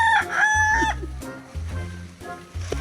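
Chickens on a farm: a rooster crows loudly and close at the start, then softer clucking follows in short bursts.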